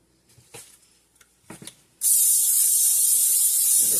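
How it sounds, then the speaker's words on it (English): Cooking spray hisses steadily into a mixing bowl for about two seconds, loud and close, after a few quiet handling knocks, while pizza dough is being prepared. "Just spray that bowl"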